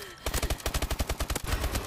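Rapid pistol fire in a first-person shooter video game, a fast string of about a dozen loud sharp shots in quick succession, close and uninterrupted by talk.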